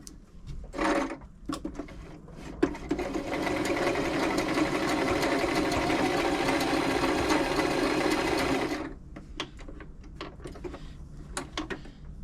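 A serviced Toyota Oekaki RS2000 domestic sewing machine stitches a zigzag in one steady, loud run of about six seconds, with faint handling clicks before and after.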